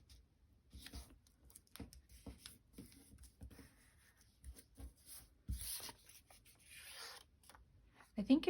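Pencil or pen scratching words onto book-page paper in short, light strokes, soft and close, with faint rustles and a brief handling bump near the end.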